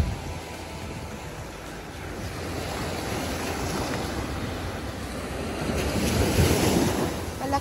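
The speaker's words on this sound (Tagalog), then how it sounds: "Malakas yung alon today." Strong ocean waves at a beach roll and crash in a continuous surging roar, swelling louder toward the end, with heavy wind buffeting the microphone.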